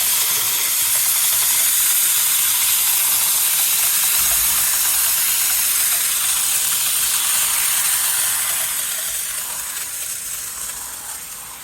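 A dual-function keg sprayer lets out a strong, steady hiss of spray as its valve is opened, holding loud and constant before tapering off slightly near the end.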